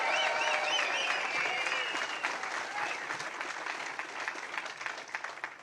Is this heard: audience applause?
yes